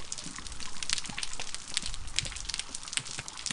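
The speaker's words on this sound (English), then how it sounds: "That was the sound of the reef where Nemo wants to go." Underwater sound of a coral reef: a dense, steady field of crackling, popping clicks like frying or light rain, with faint low thumps beneath, continuous and unbroken.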